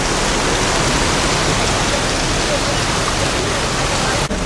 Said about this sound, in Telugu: వర్షం వస్తుంది చూసారా,